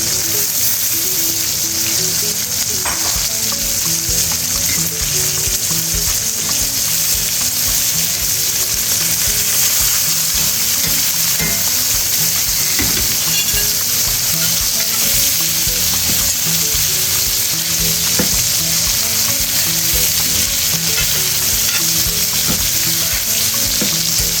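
Garlic, rosemary and green onions fry in a pan with a loud, unbroken sizzle lasting the whole stretch, with occasional stirring scrapes and light bubbling.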